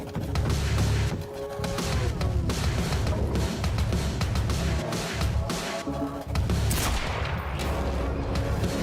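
Sustained gunfire in the shooter game Quantum Break as a carbine fires in rapid, dense bursts with crashing impacts, loud and continuous for the whole stretch with only brief dips.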